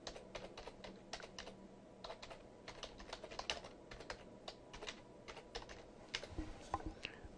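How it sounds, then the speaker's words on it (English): Quiet clicking of a computer keyboard as a search term is typed, with steady irregular keystrokes close by and no talk. "I'll type the term in and then hit search."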